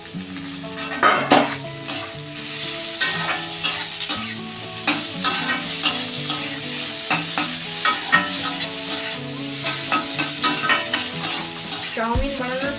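Vegetables are stir-fried in a pan for Hakka egg chowmein, sizzling under a fast, rhythmic series of metallic spatula clanks and scrapes against the pan, loud and close, with no talking.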